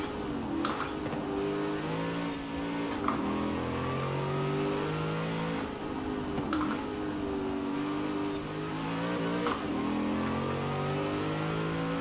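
A car engine in the Forza Horizon 4 racing game revs up repeatedly and shifts through gears, pitch climbing and dropping at each shift, steady and continuous with no talking.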